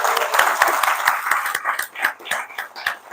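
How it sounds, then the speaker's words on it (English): Audience applause at a Sunday feast class in a Hare Krishna temple, a rapid patter of clapping from a close-by crowd that thins and becomes more scattered toward the end. "Give him a round of applause."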